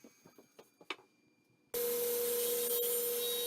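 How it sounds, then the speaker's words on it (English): A saw cuts a 45-degree angle through walnut on a miter sled, starting abruptly after a few faint taps and knocks, then running as a loud, steady, broadband whine and rasp that continues alone. "using my miter sled here, I cut an angle 45 degrees on one side"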